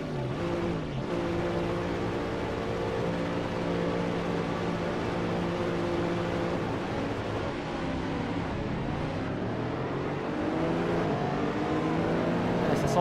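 Mercedes SLS AMG GT3 race car engine in Assetto Corsa at Spa-Francorchamps, a steady loud multi-toned drone with a shift near the start and rising revs toward the end, running continuously without talk.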